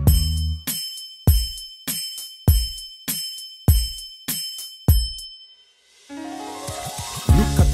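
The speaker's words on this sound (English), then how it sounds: "listen, you can hear the bell chime. Hear it chime up to 9." A bell in an educational cartoon rings eight clear, evenly spaced chimes, each with a bright attack and a ringing decay, followed by a softer jingling musical passage.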